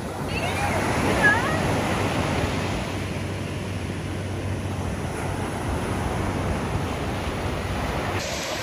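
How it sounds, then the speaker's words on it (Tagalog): Continuous broadband wash of ocean surf on a beach in Zambales, with wind noise buffeting the microphone. "So guys, nandito kami ngayon sa dagat."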